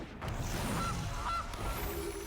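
A goose honk sound effect from the Magic the Gathering Arena video game sounds as two short, nasal honks close together over a quiet background.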